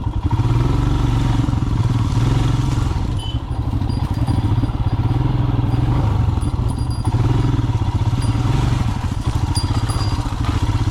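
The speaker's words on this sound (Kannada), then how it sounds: "ಫುಲ್ ರಿಯರ್ ಟೈರ್ ಸ್ಪಿನ್ ಆಗ್ತಿದೆ" An off-road motorcycle holds a steady, loud, throbbing engine drone while its rear tyre spins, with clattering and scraping mixed in throughout and no speech.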